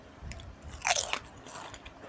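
Someone bites into plain Chipsy potato chips, producing one sharp, close crunch followed by a couple of softer chewing crackles.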